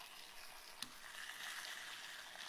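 Butter sizzles with a T-bone steak in a hot skillet, a faint, steady frying hiss with one brief sharp pop near the start, no talking.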